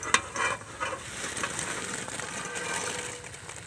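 Fried lentil fritters simmer in bubbling date-palm jaggery syrup, a continuous soft frothy sizzle with a few sharp clinks of stirring near the start.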